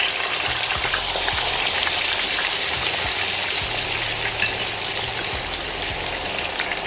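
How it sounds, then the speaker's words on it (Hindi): Chicken pieces frying in very hot oil in a kadhai over a medium flame, a steady loud sizzle and crackle running without break, with no talk. "अब इसको हम मीडियम फ्लेम पे 5 मिनट के लिए फ्राई करेंगे"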